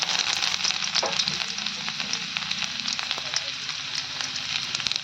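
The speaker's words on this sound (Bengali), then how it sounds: "রসুনটা কিন্তু একটু লাল লাল করে ভাজা হয়ে গেছে" Garlic and bay leaves frying in hot oil in a wok, giving a loud, steady, close-up sizzle with faint crackles and light stirring throughout.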